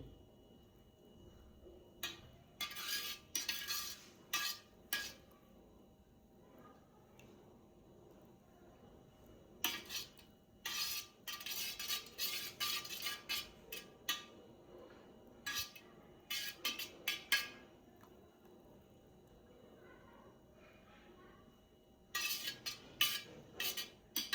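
A spoon stirring milk with curd starter in a bowl to set homemade dahi: bursts of quick, bright metallic clinking and scraping against the bowl, close up, separated by quiet pauses.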